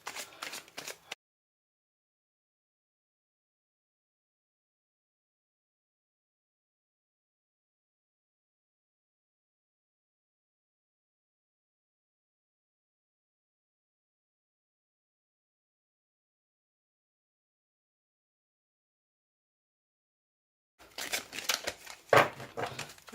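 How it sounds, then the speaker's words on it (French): Oracle cards are shuffled in two brief bursts of close, crisp riffling and flicking, one at the very start and one near the end, with a long stretch of near silence in between. "Voilà, à mélanger un petit peu plus."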